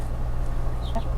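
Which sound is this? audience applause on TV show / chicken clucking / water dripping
chicken clucking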